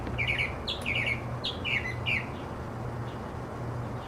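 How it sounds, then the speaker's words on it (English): A small bird chirps in quick bright bursts, about five short two-note calls in the first two seconds, then fainter, over a low steady hum of background noise. "Bird."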